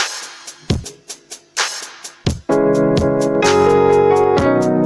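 Piano plays a chord progression enriched with passing chords and passing notes, starting with a few struck notes and chords that ring and fade, then moving into sustained, fuller chords that hold steady and near.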